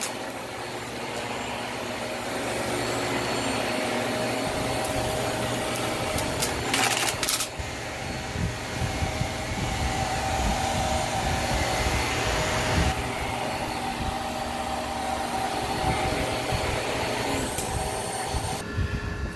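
Hart Pro stick vacuum running steadily across a living room floor, a loud continuous motor whine with brush agitation rattles and small clicks of debris being picked up, close and without talk.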